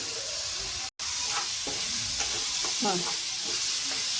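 Fresh shelled green moong beans fry in a hot tempering, making a steady hiss with scattered crackles and stirring clinks, broken by a brief dropout; a voice murmurs once.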